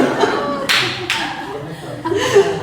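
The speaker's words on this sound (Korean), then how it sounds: "박수를 더 쳐주세요" An audience at a couples' family seminar in a church gives short bursts of clapping, fairly close and brief, mixed with light chuckles and a speaker's voice.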